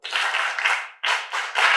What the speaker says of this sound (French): Les amis, applaudissez pour la guérison et le retour de Kossi à l'école.